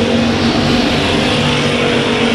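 Loud, steady engine roar from late-model stock cars racing around a track in a factory stock division, with the 81 car running strong at the 2017 Tootsie Smith Memorial; dense, continuous drone close by with no talk.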